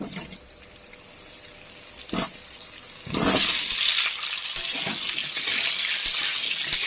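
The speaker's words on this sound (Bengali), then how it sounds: "এবার এঁচোড়ের আলুগুলো আমি ভালো করে ভেজে নেব" Potatoes for a jackfruit curry drop into hot oil after a few quiet kitchen clatters, then a loud, steady frying hiss and crackle carries on close by to the end.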